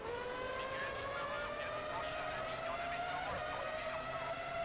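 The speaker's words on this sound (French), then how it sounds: "Gros freinage." An F1 car in the PS2 racer Formula One 03 brakes hard at the Hungary round, its high-pitched engine whine sliding steadily upward with tyre squeal, loud and continuous without speech.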